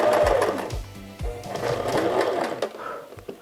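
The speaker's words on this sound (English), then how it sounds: "All pinned and ready to sew." A sewing machine runs in short and longer bursts while stitching fabric ruffles, close by and fairly loud, stopping and restarting several times.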